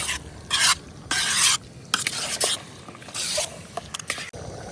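Chicken curry sizzles in a pan while being stirred, with bursts of loud frying hiss and scraping strokes coming and going in uneven rhythm, close up and without voices.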